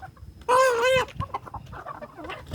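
Breeding-stock chickens on a farm give a loud, drawn-out call up close, followed by softer scattered clucks and rustling.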